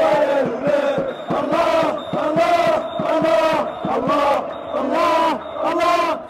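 Moroccan football fans at the World Cup chanting in unison, a loud close crowd roaring in strong rhythmic bursts with repeated pulsing shouts.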